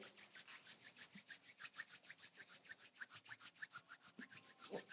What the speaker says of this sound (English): start by rubbing the palms together so that you can just find a bit more warmth here